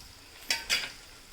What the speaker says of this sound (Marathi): इथे आपण घेतलेला आहे एक बारीक चिरलेला टोमॅटो सुद्धा आपण आता मस्तपैकी लसणासोबतच फ्राय करून घेऊयात